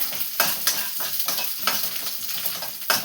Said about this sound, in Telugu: ఎండుమిర్చి వేగుతున్నాయి కదా